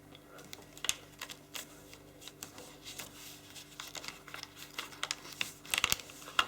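Paper is folded by hand for an origami braid, with close, soft crinkles, creases and taps that come in irregular bursts at low volume.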